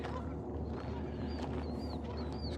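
Geese honking in a noisy flock at a bayland marsh, several calls rising and falling over a steady background wash of ambient noise, moderately distant.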